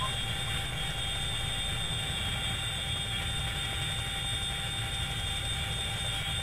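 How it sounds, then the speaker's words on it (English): An enemy jet flies overhead in the Arma 3 combat game, a steady, unbroken roaring drone that holds at an even loudness throughout. "let us have an enemy jet in the air"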